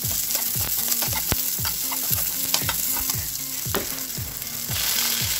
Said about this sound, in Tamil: இப்போ நம்ம கட் பண்ணியிருக்க வெங்காயம் போட்டு நல்லா வதக்கிக்கலாம்.